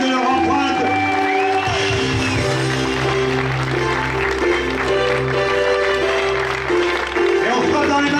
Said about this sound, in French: votre salve d'applaudissements pour ce très beau podium